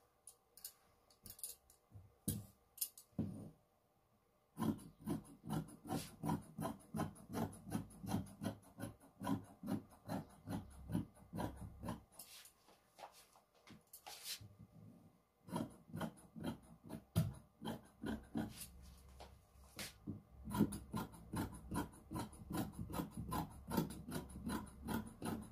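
Scissors cut through fabric for an abaya, a long series of close, rhythmic rasping snips with short pauses between runs of cuts.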